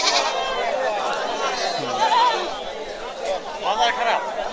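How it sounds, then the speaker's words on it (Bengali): Native breed goats bleat at the crowded Chatmohar rail bazar goat market, with a few wavering cries rising out of constant crowd chatter and someone talking nearby. "অসংখ্য দেশি জাতের ছাগল।"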